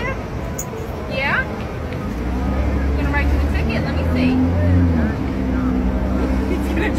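A car pulls away from a roadside police traffic stop, its low engine rumble building steadily and droning under nearby voices and background traffic noise.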